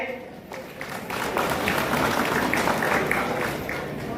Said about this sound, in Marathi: टाळ्याच्या गजरात दीप प्रज्वलन होत आहे।